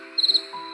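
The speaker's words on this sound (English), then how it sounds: "As the night got darker, I heard crickets and owls, but not a single fairy." Crickets chirp at night in a brief, close burst of rapid pulsed trills over a steady high insect drone.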